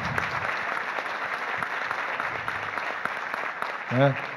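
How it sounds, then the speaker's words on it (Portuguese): An audience at an industry event applauds the staff who helped organize it, a busy clapping wash mixed with crowd murmur, with a voice rising briefly near the end. "eu pediria uma salva de palmas aí a todo o pessoal do Senai"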